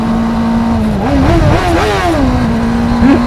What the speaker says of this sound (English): These boys wanted to rev.